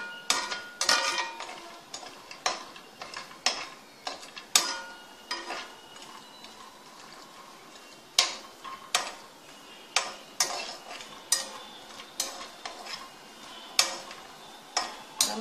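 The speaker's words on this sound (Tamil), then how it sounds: "முந்திரி பருப்பு நல்லா பொன்னிறமாக ஆகிற வரைக்கும் நம்ம லேஸ் அப்படியே வறுத்து எடுத்துடலாம்." Cashew nuts roasting in ghee while being stirred in a pan, heard as repeated close clinks and scrapes of a utensil against the pan in an uneven rhythm, with quiet gaps between strokes.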